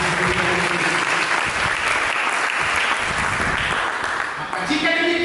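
Church congregation applauding during a sermon, steady dense clapping throughout with a brief dip near the end before it resumes, with voices mixed in.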